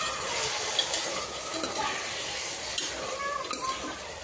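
Cooked mutton stir-fried in a pan for a mutton biryani, giving a steady soft sizzle with scraping spatula strokes and a few light clinks of utensil against metal, close and moderately quiet throughout.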